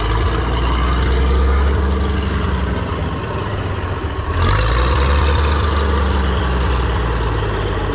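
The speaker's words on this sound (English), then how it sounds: "First time driving this tractor." An Oliver 2055 tractor with a fuel pump needing attention drives along, its loud, close diesel engine rumbling steadily with a brief dip in power midway before picking back up.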